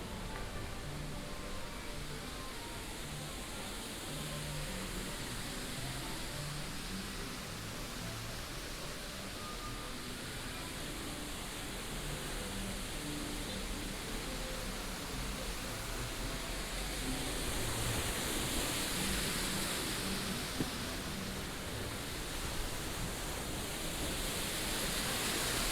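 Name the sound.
waterfall at Disneyland Resort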